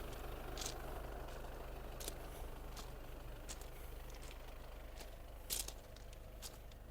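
Steady low engine rumble of a 2019 Volkswagen Passat B8 idles evenly throughout, with a few faint higher clicks and hisses scattered over it; no talking.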